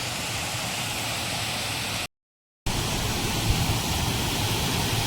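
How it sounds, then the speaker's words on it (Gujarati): Water pouring and splashing in a village river near Amba Dungar hill, a steady, loud broadband rush that fills the whole clip, cut by a brief gap of silence midway before the same roar resumes. "પાણી પડે છે તો એનો અવાજ કેવો મસ્ત આવે છે, એકદમ ખડખડ કરતો"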